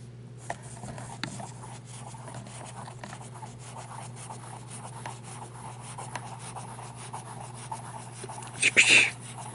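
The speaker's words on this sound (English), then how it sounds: "That is not a quiet nib, that's for sure, but it's not scratchy." A Cross Century fountain pen nib writing on paper, a close, continuous soft scratching rub with small ticks as strokes start and stop, over a steady low hum, ending in a brief louder scrape.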